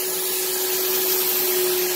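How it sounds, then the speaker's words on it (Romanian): A Karcher Puzzi 10/1 spray extractor vacuum runs on dirty car seats with a loud, steady motor whine and airy suction rush that holds unchanged throughout. "O să vă arătăm în continuare aspiratorul"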